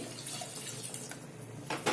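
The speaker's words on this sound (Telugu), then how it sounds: "ఇప్పుడు దీంట్లో నీళ్ళు పోసేయాలి ఉడకడానికి" Water splashes and pours steadily for a moment into a cooking pot of fried mutton, close by, with a slightly louder gush near the end.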